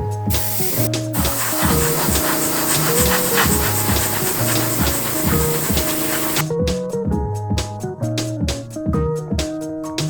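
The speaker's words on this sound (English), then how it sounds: "I start painting the dark gray areas, so I'm just masking out those areas and using my airbrush" An airbrush sprays dark gray paint onto a masked model in a steady, close hiss, with background music playing throughout.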